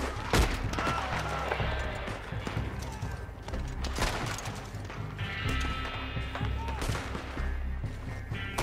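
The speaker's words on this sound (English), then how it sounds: "Look at young Ken making headshots, man." Gunfire in the Red Dead Redemption 2 Online video game, with sharp shots scattered over a dense mix of game sound, hoofbeats and background noise.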